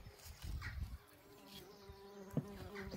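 A wasp buzzes close by in a garden at early morning where tortoises gather, a steady droning hum that swells and fades over the few seconds, with no voices.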